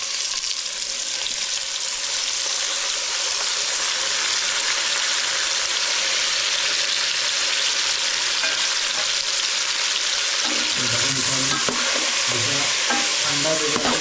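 Onion and tomato stir-fry in a pan for egg biryani, giving a steady loud sizzle throughout, with heavier scraping and stirring clatter in the last few seconds.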